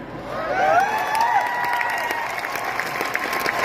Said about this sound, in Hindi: आप ताली बजाएंगे तो हम गा सकते हैं